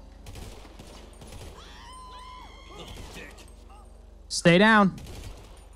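A single loud gunshot from a police officer's weapon in GTA 5 with the LSPDFR mod rings out near the end, sharp and close, following stretches of in-game talk and radio chatter.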